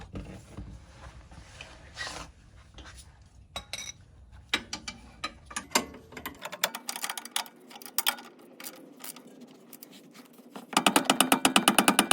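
Ratchet wrench clicking as a rear sway bar link is tightened on a 2015 Lexus IS250, bursts of fast close clicks and mechanical rattles, ending in a loud rapid run of clicks.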